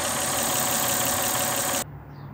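A 1992–1993 Toyota Camry 3.0L V6 3VZ-FE engine runs steadily with a loud, dense mechanical hum, then cuts off abruptly near the end, leaving quiet background.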